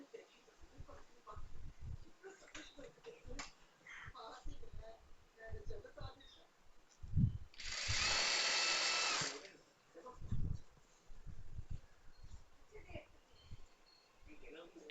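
A sewing machine stitches the side seam of a nighty in one short, close run of about a second and a half, with a person speaking in a quiet room before and after.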